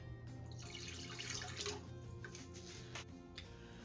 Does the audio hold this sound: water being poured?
yes